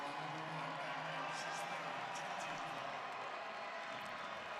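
North Dakota State basketball fans fill the arena with a steady roar during a Summit League Tournament semifinal against South Dakota State. A commentator talks over the constant crowd noise.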